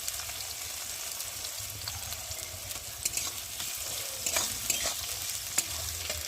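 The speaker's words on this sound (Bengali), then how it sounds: "আর এখন পেঁয়াজগুলো দিয়ে ভালো করে ভেজে নেব।" Onions frying in mustard oil in a kadai, a continuous close sizzle with stirring scrapes and brief louder crackles throughout, no voices.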